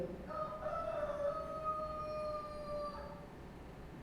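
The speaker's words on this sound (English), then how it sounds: "It was at that time a rooster crowed." A rooster crows once in a drawn-out, high tonal call over steady background noise during a church Passion Play performance, moderately distant and fading after about three seconds.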